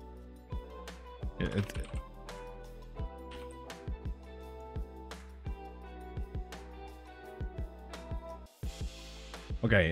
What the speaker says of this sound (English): We're going to be testing some typing.